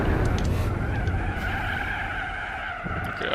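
Race car tires skid and squeal under late braking in Gran Turismo 4, a loud continuous screech over a steady engine drone, with no voices.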